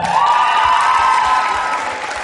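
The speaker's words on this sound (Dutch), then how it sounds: "Uw applaus voor Bo en Febe." An audience at the Miss Fashion gala awards ceremony claps steadily, a dense wash of applause filling the hall, loud and close throughout.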